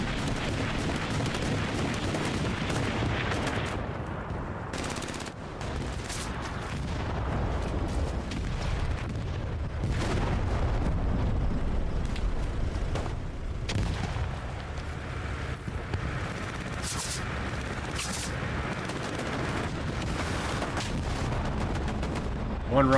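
Rocket explosions and gunfire in a Call of Duty match, a dense, continuous barrage of booming blasts and shots with no clear break, heard from within the action.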